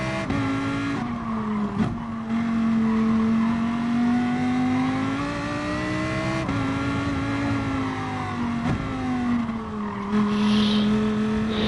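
A Lamborghini engine in a racing video game drones steadily, its pitch climbing and falling through gear shifts over several seconds, with brief tire squeals and no talk.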